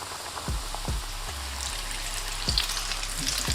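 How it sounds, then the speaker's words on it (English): Chicken tenders crackle in hot oil, a loud dense sizzle like heavy rain, broken by a few low bumps from the pan. No one speaks. "Now this goes into the hot oil."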